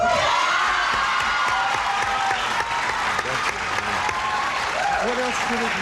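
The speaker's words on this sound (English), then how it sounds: "from the shriek that went up here, all these English people in the audience agree with you" A 1984 television game show studio audience claps loudly and continuously with mixed shrieks and cheers, a dense, close crowd roar lasting throughout.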